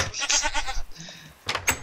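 A goat in a hardcore survival video game gives a few quick, wavering bleats, up close and fairly loud, with short pauses between calls.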